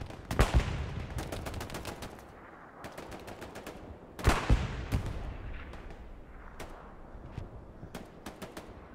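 Explosions and gunfire from a bombing run in the World War II shooter Hell Let Loose during a competitive match: distant booms mixed with rattling machine-gun bursts and scattered shots, faint overall, with two heavier blasts standing out.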